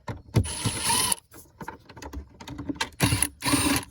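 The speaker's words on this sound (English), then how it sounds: "Some of these screws aren't really holding very well. Gotta love the screw guns, man." Screw gun backing out cover screws on a Yamaha LX/LS 2000, with two close, buzzing whirs of about a second each, separated by quieter clunks and handling noise, with no talking.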